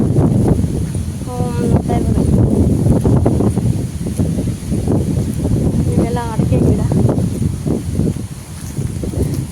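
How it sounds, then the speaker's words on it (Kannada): Steady broadband wind roar buffeting the microphone throughout, with people talking over it, outdoors in a village farm. "ಸಿಕ್ಕಾಪಟ್ಟೆ ಗಾಳಿ ಇದೆ"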